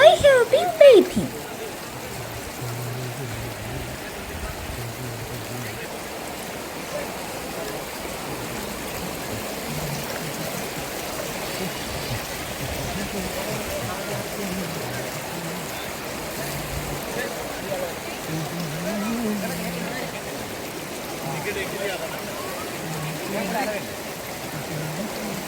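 River water flows steadily at the Pinnawala elephant bathing site in Sri Lanka, a constant moderate rushing wash throughout, with voices faintly mixed in and a brief louder splash at the start.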